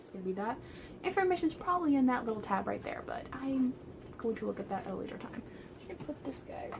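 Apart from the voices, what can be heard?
No distinct noise like a dog, phone or traffic.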